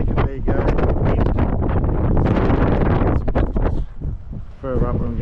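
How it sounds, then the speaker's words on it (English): Strong wind buffeting the microphone at a beach, a loud, continuous rumbling roar with gusty surges, while a person talks under it. "There you go, wind."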